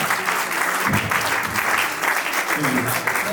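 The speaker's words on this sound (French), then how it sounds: "Veuillez vous lever, on applaudit." Guests at a civil wedding ceremony applaud together in a steady round of clapping, with faint voices murmuring underneath.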